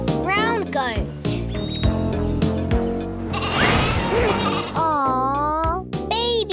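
A baby goat bleats in a series of wavering, quavering calls, with a short burst at the start and another group near the end, loud and close against a steady background.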